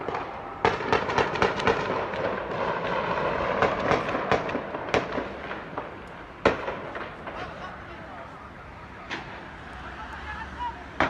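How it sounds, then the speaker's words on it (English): A firefight down a street in a war zone produces scattered sharp gunshot cracks and bursts over a continuous rumbling, noisy background, with a voice talking throughout. "we can still hear the firefight was going on down the street"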